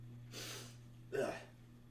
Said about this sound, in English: if you hear any sniffling, don't worry, I'm not sick. It's just allergies and sinuses